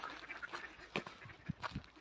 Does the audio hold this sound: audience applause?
no